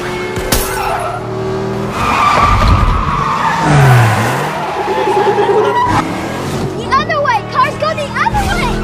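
Film car chase from Safe with Russian mafia pursuers, engines revving and tires skidding and squealing in bursts over loud action-scene noise, ending with a tonal score-like texture and scattered voices.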